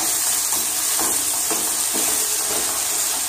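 Liver and onions with mustard sizzling in a pan as they are stirred, a loud, steady hiss broken by several scraping strokes of a spoon.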